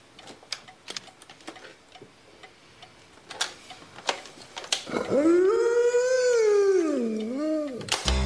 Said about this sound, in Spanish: ¡Un perro me persigue!